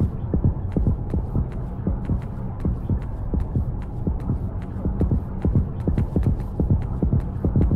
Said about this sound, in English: Heartbeat is ridiculous.